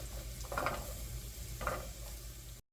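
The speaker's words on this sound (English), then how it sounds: "We're going to cook the onions for maybe 2-3 minutes." Onion pieces sizzle in a pan over medium heat, giving a soft, steady frying hiss with two brief stirring scrapes, quiet and close with no one talking.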